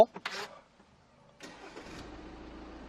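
A Jeep SUV with roughly 65,000 km on it cranks and fires up after a short pause, then settles into a steady, close idle; brief talk comes just before it starts.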